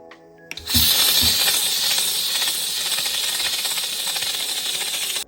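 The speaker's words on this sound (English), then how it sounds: "Now I'm going to take my trusty steamer and just go ahead and steam up the rest of this stuff that didn't come out." A handheld steamer blasting Air Jordan 4 Orchid sneakers to lift remaining dirt, a loud continuous hiss that starts after a couple of soft clicks and holds steady at close range.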